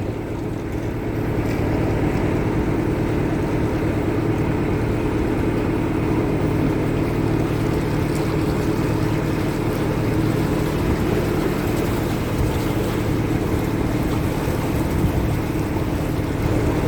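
Canal narrowboat cruising through a boat club marina, its engine a steady, unbroken drone close by with water and hull noise, no talk over it.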